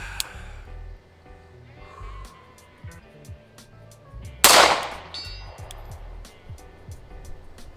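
A single loud rifle shot fired through a Monsoon Tactical Genghis Komp muzzle compensator outdoors at a distant target, a sharp crack standing out once over quiet background with faint rustling.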